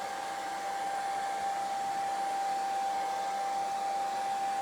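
A hair dryer blowing on sprinkled paint on a tractor sign gives a loud, steady, close whir with a constant high whine throughout, and no voices.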